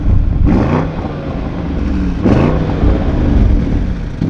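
An Audi SUV engine with an 8-speed automatic revs loudly and steadily, its pitch climbing and then dropping twice as it shifts up, with no talk over it.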